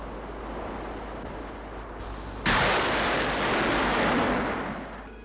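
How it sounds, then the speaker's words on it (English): A seismic survey charge detonated astern of a ship at sea, a sudden heavy boom midway that rises out of a low rumbling background and decays slowly. "A charge is launched every minute, and they're automatically detonated astern."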